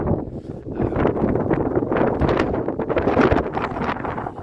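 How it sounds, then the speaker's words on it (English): Strong wind on a Dartmoor tor at night buffets the microphone in continuous rough gusts, a loud roaring rumble with no voices. "It is hellish windy up here tonight"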